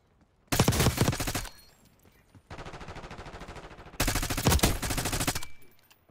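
Loud bursts of automatic gunfire from Call of Duty Black Ops 6, two dense rattling volleys separated by a quieter stretch of rapid, steady firing, all close and forceful with no talking.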